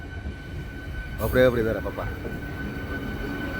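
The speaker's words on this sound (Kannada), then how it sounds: "electric train" A fully loaded electric train on a journey toward Bengaluru city gives a steady, continuous rolling rumble with a faint high whine running throughout, and a voice speaks briefly over it near the start.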